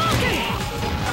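A guard break in the fighting game Capcom vs SNK 2, played at a monthly tournament, lands as a loud, dense crash-like impact with busy game sound around it.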